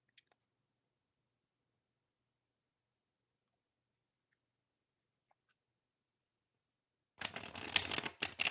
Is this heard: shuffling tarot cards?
yes